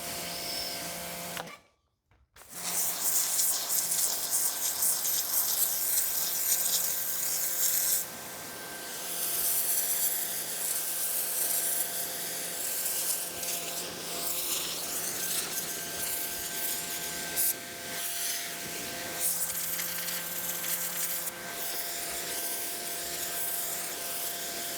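WAP 4200 five-piston pressure washer spraying through a lance with a 1.2 nozzle gives a steady, loud hissing blast that stops briefly near the start, then runs on with a continuous motor drone and spray noise.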